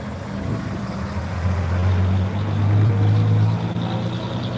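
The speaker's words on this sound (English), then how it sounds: "There goes the bus." Vintage bus in green and cream local colours driving past at a steam museum in Sussex, a steady low engine drone that swells as it passes close by, then eases off.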